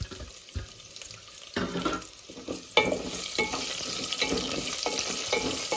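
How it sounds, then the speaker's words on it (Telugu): Steady sizzling of onions frying until golden in a pan with curry leaves and green chillies, with occasional stirring scrapes and clatters over a continuous hiss. "బాగా వేగాలి ఉల్లిపాయలు కూడా గోల్డ్ కలర్ రావాలండి"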